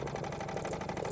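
A Wilesco D20 toy steam engine, restored and running fast on its regulator valve, chuffs in a quick, even rhythm. The close, quiet mechanical beat repeats steadily with no talk over it.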